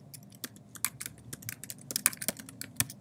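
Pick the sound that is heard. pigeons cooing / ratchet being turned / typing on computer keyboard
typing on computer keyboard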